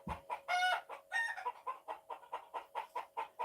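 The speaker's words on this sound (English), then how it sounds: "That is the noise they make when he's a predator" Agitated chickens cluck rapidly as a dog chases them, a steady stream of close, sharp clucks and a few louder squawks near the start, heard on their own without talk.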